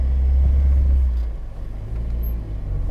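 A Moskvich 2141 Yuri Dolgoruky runs with a deep, loud, close engine rumble that swells for the first second, dips briefly, then returns with an uneven throb.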